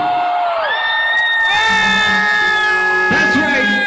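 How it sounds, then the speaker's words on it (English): Large concert crowd at a show screaming and cheering continuously, many voices merging into sustained loud whoops and high-pitched shrieks, with swells of louder yelling throughout. "So let me hear those voices screaming"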